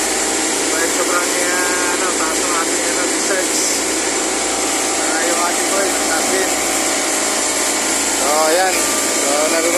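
An overheating air conditioner compressor with high discharge pressure runs loudly, a dense, unbroken mechanical roar and whine throughout, with faint voices under it.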